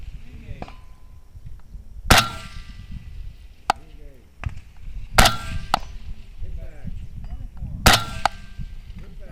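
Rifle shots from a .223 gas gun at a PRS shooting match, three sharp distant cracks spaced a few seconds apart over steady outdoor background noise, with faint clinks between them.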